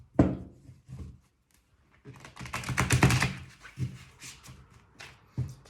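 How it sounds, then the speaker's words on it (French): Béline oracle cards shuffled by hand, giving soft papery riffles and taps in short bursts with brief pauses between, close and fairly quiet. "On va mélanger un peu."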